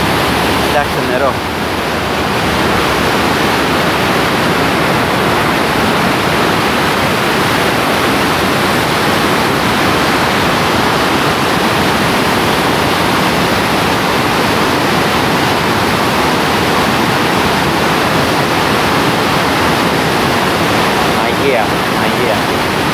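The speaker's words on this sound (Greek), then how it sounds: "Κοιτάξτε νερό." Steady, loud rush of water roaring continuously, like a waterfall or fast stream close by in the Vouraikos Gorge, with no pause throughout.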